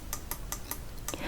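Keys pressed on a computer keyboard, Alt held then Enter, heard as a handful of crisp, evenly spaced clicks close by with no voice over them.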